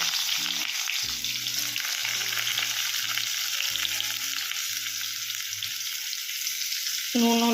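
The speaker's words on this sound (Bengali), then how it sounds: "আলুগুলো একটু ভালো করে ভেজে নিতে হবে" Potatoes fry in a pan of hot oil with nigella seeds and green chilies. The loud, close sizzle is steady, with stirring scrapes and a sharp surge of crackling near the end.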